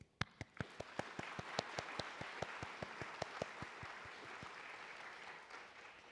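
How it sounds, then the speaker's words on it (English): Applause from a small crowd at a university linguistics graduation, with loud individual claps standing out at first and then blending into a steady patter that gradually thins. "let us first give ourselves a round of applause"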